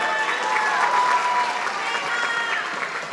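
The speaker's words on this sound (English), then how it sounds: "If you like it, you can give her an applause." An audience at an arangettam dance recital applauds in a steady, even wash that stays at a constant level from start to finish.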